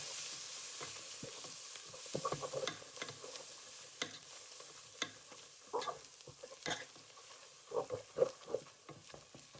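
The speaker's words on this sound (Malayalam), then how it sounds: "മസാല ചോട്ടാക്കാട്ടോ." Chicken masala sizzles in a hot pan while a spoon stirs it in irregular scraping strokes, the frying crackle steady and close with no one talking.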